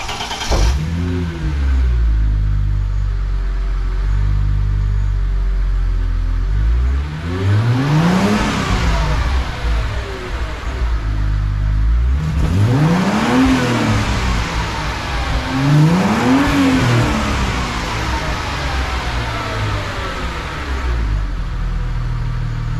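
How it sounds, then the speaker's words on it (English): Chrysler Crossfire SRT6 with a 3.2-liter 18-valve supercharged single overhead cam engine and six-speed manual, revving close by in three rising and falling sweeps over a steady engine drone, with a high supercharger whine riding each rev and no talk. "Really hear the whine from the supercharger."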